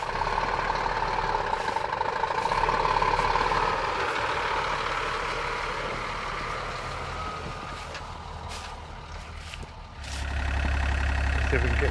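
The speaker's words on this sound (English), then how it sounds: "I think the truck's coming in now to collect it" A truck pulls in to collect a stolen Takeuchi TB230 mini digger, its engine rumbling steadily with a low idle and intermittent reversing beeps, the drone dipping briefly before swelling louder again near the end.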